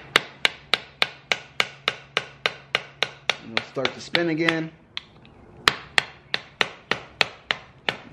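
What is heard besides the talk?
hammer tapping flathead screwdriver while removing brake rotor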